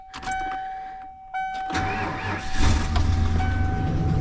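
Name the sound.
Ford F350 460 big block engine running on front tank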